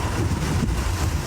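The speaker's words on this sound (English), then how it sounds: "Wind gusts of up to 200 kilometres an hour." Hurricane wind gusts during a storm on the Florida coast roar as loud broadband rushing noise buffeting the microphone, continuous with brief surges, alone without voices.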